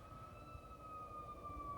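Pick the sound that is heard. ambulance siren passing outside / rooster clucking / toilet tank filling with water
ambulance siren passing outside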